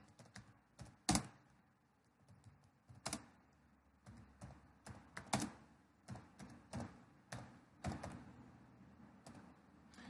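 Keys clack on a computer keyboard in a quiet room, scattered taps and short bursts with uneven pauses, a few louder strikes standing out, and no talking.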